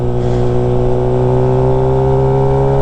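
Engine of a 2013 Suzuki GSX-R 750 sport motorcycle running loud and steady throughout, with a strong harmonic drone that holds close and constant and no speech over it.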